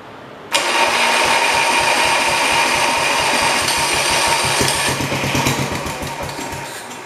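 The engine of a 1968 110 lawn tractor catches and runs, a loud rapid chugging that starts abruptly, holds steady, then picks up a sharper beat as throttle is given before easing off.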